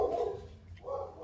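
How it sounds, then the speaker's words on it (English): A dog barks indoors during a home crafting chat, a short, fairly loud burst of barking heard close by with no talking. "Sorry about the barking, you guys."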